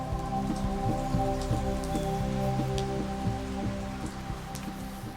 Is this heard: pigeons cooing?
no